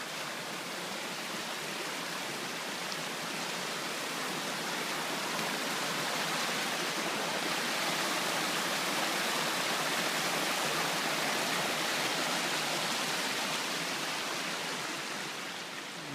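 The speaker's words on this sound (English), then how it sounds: "all the way down we could hear the sound of this rushing water" River water rushing at the base of an escarpment, a dense, unbroken broadband roar that stays steady and fairly close throughout, with no voices over it.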